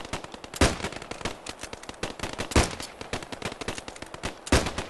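Rifle and machine-gun fire during military section attack training, a steady rattling stream of shots with louder cracks standing out every couple of seconds, somewhat distant, no talk.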